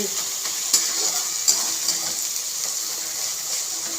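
Bay leaves and dried chilies frying in hot oil give a steady, bright sizzle with a few sharper crackles and spatters, close and continuous, with no voices.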